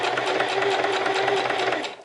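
A sewing machine runs close and steady while stitching a bias bound seam finish, its fast even whir continuing about two seconds before it slows and stops.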